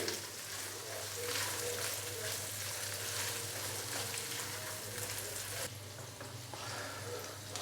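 Beef frying in a pan with ground black pepper gives a dense, steady sizzle throughout. The hiss is loud and close, softens slightly near the end, and the low hum of a cooking range sits beneath it.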